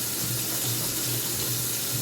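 A kitchen tap runs steadily into a cooking pot for mashed potatoes, producing a continuous, close, hissing splash with a faint low hum underneath and no pauses.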